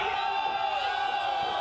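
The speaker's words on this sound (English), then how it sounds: "the crowd here at the Bay City Brewing Company is going crazy" Crowd at a Bay City Brewing Company fight event roars and whoops steadily, a dense wash of cheering voices filling the room throughout with no single voice standing out.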